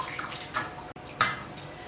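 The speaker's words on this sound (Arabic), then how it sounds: "وحطيت الزنقة وحطيت في وسطها الماء" Water poured into a pot used to steam lemon, a close, continuous splashing and gurgling stream with a brief break midway before pouring resumes.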